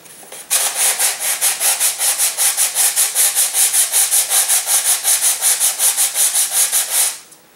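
A balsa model glider wing is hand sanded freehand to set its dihedral angles. It makes a steady, close, rhythmic scratchy rasp of rapid back-and-forth strokes, about five per second, running for several seconds with no talking.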